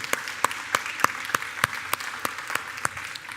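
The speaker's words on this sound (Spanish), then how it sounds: "le pido un fuerte aplauso a la iglesia por ellos hacer eso" A church congregation applauds in a steady, sparse rhythm, with distinct sharp claps repeating about every third of a second over a soft wash of scattered hand claps in a reverberant sanctuary.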